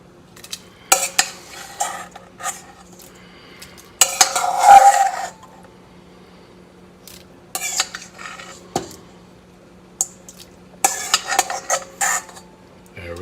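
Cooked shrimp are stirred back into a pan of rice, with bursts of metal utensil scraping and clattering against the pan separated by quiet pauses, close and clear with no voices.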